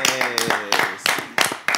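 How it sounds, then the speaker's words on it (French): Studio audience on a French talk show clapping in several short bursts, with talk-like sounds mixed in. "applaudissez pour moi, s'il vous plaît"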